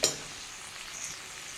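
A brief sizzle of spiced fish head and spinach frying in a pan with tomato, cumin, chili powder, turmeric and sugar: a sharp burst at the start settles into a steady, soft hiss.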